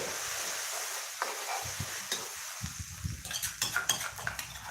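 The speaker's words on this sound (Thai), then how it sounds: "นี่เอาไปผัดแบบนี้เลยนะคะพี่เพื่อนเพื่อน" Thai chili paste with shrimp paste being stir-fried in a pan for northern Thai nam prik ong, with scraping spatula strokes and soft sizzle that grow busier and louder toward the end, no talking.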